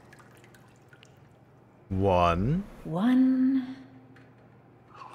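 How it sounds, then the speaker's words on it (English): A game character takes a single sip of murky ink water in Bendy and the Dark Revival, a short slurping gulp with a rising, warbling tone, and a voice counts aloud just before it. "Just 3 sips of water."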